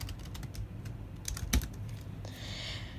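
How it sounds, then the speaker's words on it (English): Quick bursts of keystrokes clatter on a computer keyboard while text is entered, uneven taps close and clear with one sharper key press, ending in a lighter, hissy patch. "So I'm just going to type my text."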